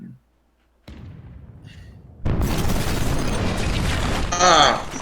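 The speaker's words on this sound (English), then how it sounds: "bomb explosions, and they're" A sudden loud, rumbling blast breaks in after near-silence, followed by sustained roaring, crackling destruction with a brief sharper burst near the end.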